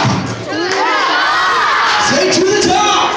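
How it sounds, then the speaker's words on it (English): A gym crowd at a strength team show cheers and shouts loudly in a dense, excited burst with thumps, children's voices mixed in. "Let's give him a big round of applause"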